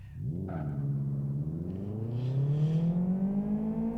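A car engine in the racing video game Live for Speed revs up and holds a steadily rising, smooth synthetic drone, loud and continuous with no talking.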